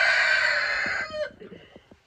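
A rooster crows loudly and close by in a pole barn, then a few short hen clucks follow as the call fades out.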